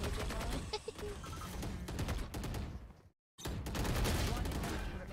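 Rapid gunfire in a competitive shooter video game match, dense bursts of shots with a brief silent gap midway, with talk underneath.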